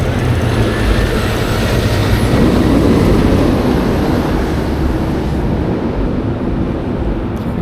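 A train rumbles past close by on a commute home, a loud, continuous roar with a dense rattle that holds steady for several seconds and then eases slightly.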